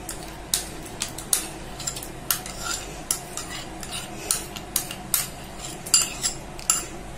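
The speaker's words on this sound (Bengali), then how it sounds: "ঢেলে দিয়ে একটা মিক্স করে দেব ভালো করে। দইটি ভালো করে আমি মিশিয়ে নিচ্ছি" Curd being mixed in a bowl with a spoon, producing a steady run of light clinking taps against the sides, close and fairly crisp, with no voices.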